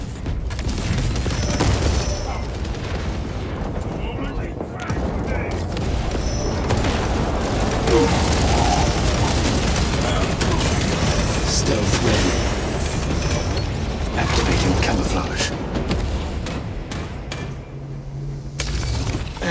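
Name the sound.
grenade explosions and gunfire in Warhammer 40k Space Marine 2 video game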